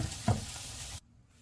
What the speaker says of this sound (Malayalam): അപ്പോൾ നമ്മുടെ വെണ്ടയ്ക്ക് അത്യാവശ്യം ഫ്രൈ ആയിട്ടുണ്ട്